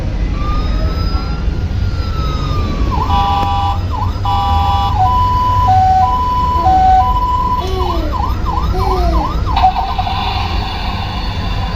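A toy ambulance's electronic siren cycles through wailing and yelping patterns, loud and close, with a rising whine and steady hum underneath.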